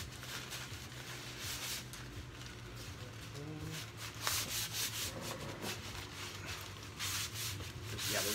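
Cloth wiping excess finish off a wood piece in a workshop, a soft continuous rubbing with repeated back-and-forth strokes, close and fairly quiet.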